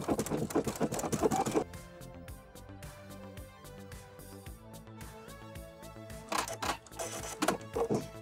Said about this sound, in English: I'm gonna be using a straight stitch today.